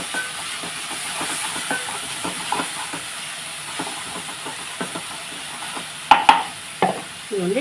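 Tomato pieces sizzling in a hot pan with curry leaves: a steady soft steamy hiss throughout, punctuated by small crackles and taps, and a few louder utensil clatters near the end.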